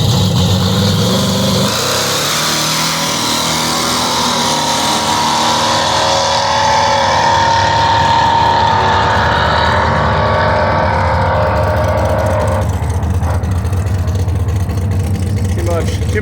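A Chevy C10 drag racing truck engine roars loud and close at high revs for the whole stretch, with a deep sustained growl and rising pitch, voices faintly under it.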